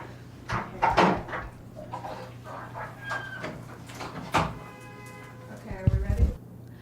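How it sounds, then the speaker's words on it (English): An indoor door is pushed shut, giving a couple of sharp knocks and thuds set among quiet talk and movement in the room. "Can we close the door so I don't keep looking outside"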